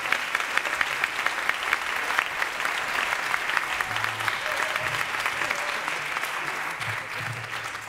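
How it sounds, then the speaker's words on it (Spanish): A theatre audience at a comic stage adaptation of La Gitanilla applauds to welcome a performer, a dense, steady round of clapping that holds at an even level throughout. "vamos a recibir con un fuerte aplauso a don Juan, el Juanico"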